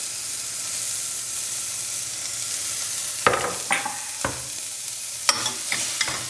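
Chopped onion frying in hot oil inside a heated pressure cooker for a tempering, giving a steady close sizzle broken by a few sharper bursts as it is stirred.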